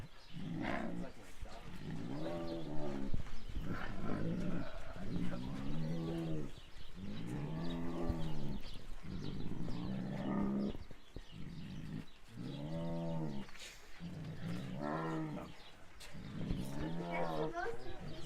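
A hungry, impatient tiger at an exotic animal sanctuary in Phelan, California lets out repeated loud, drawn-out moaning roars and growls close by, coming in bursts with short gaps, while people talk nearby.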